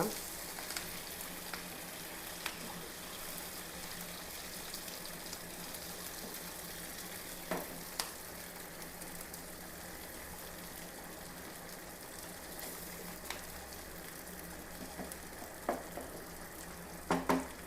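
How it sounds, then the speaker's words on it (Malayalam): A soft, steady sizzle of pearl spot fish (karimeen) frying in a pan, faint and continuous, with occasional light clicks and taps of cookware. "നമ്മുടെ കരിമീൻ വറുത്തതും റെഡിയായി"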